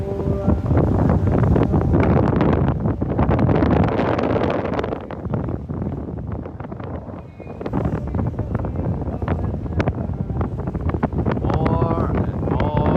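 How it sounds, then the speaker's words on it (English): Strong wind buffets the microphone outdoors near Santa Monica, a loud, continuous roaring rumble that surges and dips, with a voice faintly talking beneath it. "More and more and more of wind."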